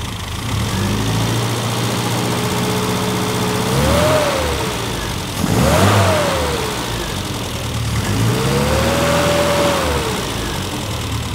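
A classic Mini engine with its carburetor being tuned, running a little rich at idle: a steady mid-pitched idle broken by three short throttle blips that rise and fall, close and loud with no talking.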